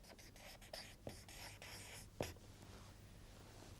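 Chalk or a marker writes on a classroom board in a quiet series of short scratchy strokes, with a couple of sharper taps partway through, faint and close.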